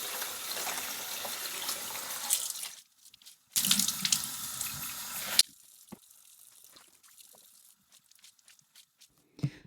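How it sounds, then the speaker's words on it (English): Tap water runs into a sink as hand-dyed vintage slips are rinsed, a loud rushing stream that cuts off, returns briefly, then gives way to soft drips and handling noises. "So now our items are all rinsed."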